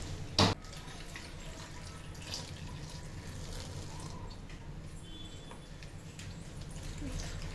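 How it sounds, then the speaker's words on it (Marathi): Mushrooms being washed in a basin of water for a paneer mushroom masala, with soft continuous splashing and sloshing, a brief louder clunk near the start, and faint speech underneath. "आता मशरूम आपल्याला हे सगळे व्यवस्थित धुवून घ्यायचे पाण्यात"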